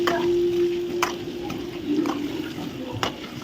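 Eggs frying in a pan for an egg masala curry, a steady sizzle with scattered soft clicks and brief scraping taps of a utensil, continuous and fairly close.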